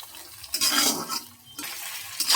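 Mutton pieces stirred in a kadai for a curry, giving scraping, shuffling bursts of utensil against metal in two main strokes with quieter gaps, close and moderately loud, no talk.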